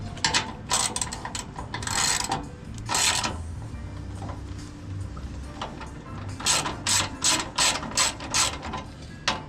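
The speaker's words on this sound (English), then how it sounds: "we're going to pull the 2 bolts on this side and pry it up and pull the ones over here. These guys are going to be 13 millimeter." A hand ratchet loosens 13 mm metric bolts on the pan of a 1973 Volkswagen Bug, clicking in several quick, close bursts separated by short pauses and faint handling noise.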